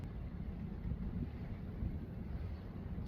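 Wind buffeting a sailboat at anchor off Cabo Verde, a steady low rumbling roar with gusty microphone noise and no voices.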